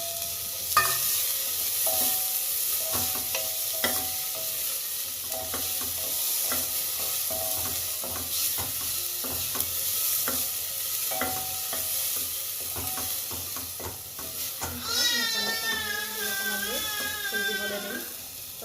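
Bottle gourd, carrot, beetroot, beans, potato and tomato fry and get stirred in a pan for baby khichdi, giving a continuous close sizzle with repeated scraping stirs; a brief wavering, voice-like tone rises near the end.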